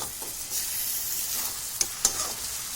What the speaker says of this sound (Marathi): थोडी टाकत जायची हलवत जायची